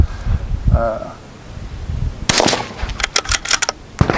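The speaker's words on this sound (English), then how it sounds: "that's how you shoot a right-handed bolt, left-handed" A right-handed bolt-action rifle is fired left-handed outdoors, giving sharp close cracks with clattering and rattling following the shot, while a voice speaks briefly beforehand.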